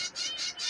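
Baby birds, dove chicks in a nest, squawking for food in three quick rasping bursts, close and fairly loud.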